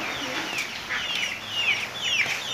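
A chicken in a garden gives a few short clucks and chirpy calls up close, with faint background noise between them.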